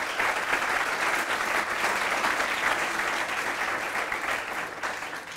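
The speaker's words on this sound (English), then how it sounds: "Please join me in giving them a round of applause" An audience at an evening civic event with the Los Angeles mayor gives a sustained round of applause, a dense, even wash of clapping with no speech over it.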